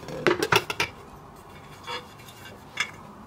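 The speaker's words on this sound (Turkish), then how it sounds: "Servis tabağını ters çevirerek yemeği hazırlıyorum." A serving plate is turned over onto a cooking pot of cabbage rolls: a quick run of close ceramic and metal clinks and knocks, then two faint, isolated taps in a quiet kitchen.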